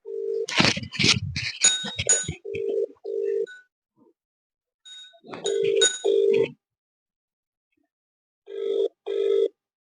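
An electronic telephone rings in short repeated bursts of trilling tones, pausing between rings, with a gap of silence before two more rings near the end.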